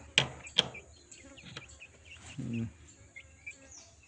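A few chickens cluck and squawk sporadically nearby, with short sharp calls and some quieter clucking in between.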